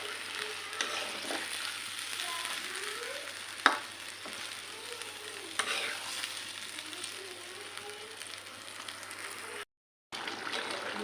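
Tilapia fish fries in a pan with a low, steady crackling sizzle, faint and close, broken by a sharp clink of a utensil and brief stirring scrapes.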